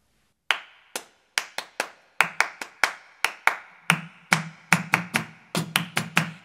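Hands clap alone at a church Sunday school to open a children's song: sharp, close claps in an uneven rhythm that grows denser and livelier, with no voices over them.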